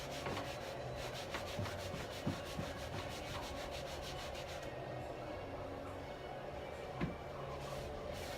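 A rag rubs Dixie Belle Best Dang Black Wax onto a wooden surface with soft, continuous scrubbing strokes. The sound is close and quiet, with a few small knocks.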